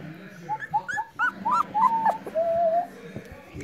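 An Airedale Terrier puppy whimpers and yips in a string of short, rising high-pitched cries, ending in one longer drawn-out whine, close and fairly loud over faint room noise.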